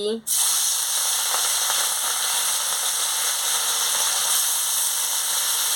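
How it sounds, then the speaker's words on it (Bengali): Moorla fish hit hot oil with a sudden loud burst, then a steady, bright sizzle of frying continues close by without pause. "তেল গরম হয়ে গেছে আমি মাছটা দিয়ে দিচ্ছি"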